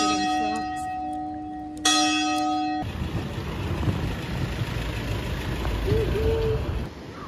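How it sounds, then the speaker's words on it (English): Church bells ringing at 9 p.m. in Portugal's Algarve, sustained clear tones struck twice in the opening seconds, then giving way to a faint outdoor hum of distant traffic. "It's 9 p.m. and the bells of Portugal are ringing."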